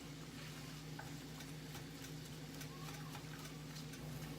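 Onions slowly caramelizing in a pan over low heat give a steady, soft sizzle with faint stirring scrapes, alone and fairly quiet, with a low hum underneath.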